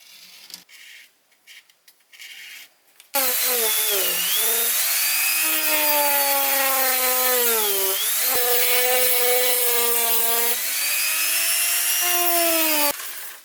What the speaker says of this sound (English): I went around with the Dremel with the sanding disc on it